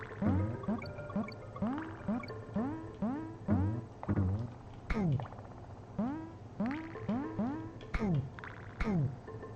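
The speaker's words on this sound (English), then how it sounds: "do you think that was just someone gulping into a microphone?" Gulping sound effects from Donkey Kong Country, a rapid series of rising, bubbly swallows repeating rhythmically over steady game background sound.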